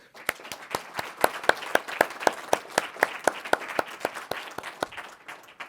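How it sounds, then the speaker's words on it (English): Scattered clapping from a small audience thanking presenters and panelists at the end of an agrivoltaics event, a few dozen sharp distinct claps in loose rhythm, fairly close, with no voices. "Let's give a round of applause, please."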